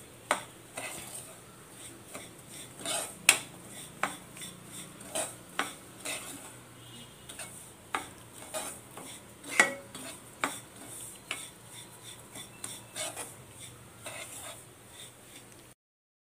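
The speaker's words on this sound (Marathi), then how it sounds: "मी काजू, बदाम आणि मनुके ॲड केलेत, ते पण त्याच्याबरोबर व्यवस्थित भाजून घ्यायचे." A spoon stirs semolina roasting in a pan with cashews, almonds and raisins, making steady scraping and clinking strokes against the metal at an even rhythm, close and moderately quiet, with no talking.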